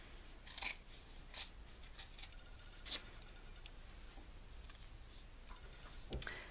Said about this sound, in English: This sweatshirt has like a covered seam in the back, and I'm just cutting right above that.